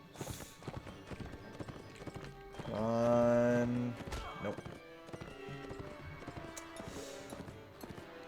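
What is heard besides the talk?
horse galloping in Mount and Blade Warband video game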